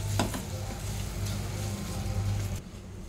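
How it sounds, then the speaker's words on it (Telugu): Gram flour being stirred in hot ghee in a pan for besan laddu gives a soft, steady sizzle and faint scraping close by, continuous and low, with a low hum underneath. "నెయ్యిలో ఈ పిండి మంచిగా కలిపేసేసుకోవాలి, ఇది మాడకుండా కలుపుతూ ఉండాలి"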